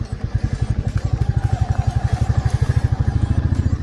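Motorcycle ridden over rough off-road terrain near Shivkhola, its engine thumping in a rapid steady rhythm close by, loud and continuous with no talk.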